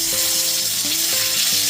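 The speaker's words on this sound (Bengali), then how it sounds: "টমেটোটা দিয়ে দেওয়ার পর 2 থেকে 3 মিনিট ধরে খুব ভালো মতো নাড়াচাড়া করে ভেজে নিয়েছি" Tomato pieces and potatoes frying in a covered pan, with a steady close hiss of sizzling oil and a few faint clinks and tones underneath, no voices.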